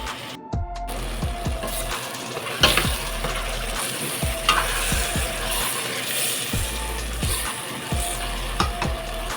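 Potato mixture with tomato being stirred in a hot pan, a steady sizzle with repeated scraping strokes of a spoon at an irregular rhythm, close and moderately loud.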